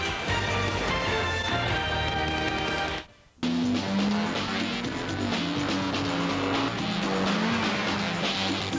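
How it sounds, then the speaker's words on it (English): A six-speed, 200-horsepower Acura RSX Type S in a TV commercial, engine revving hard with rising gear pulls and tire squeal, loud and continuous under music, broken by a sudden brief silence. "The six-speed, 200 horsepower Acura RSX Type S"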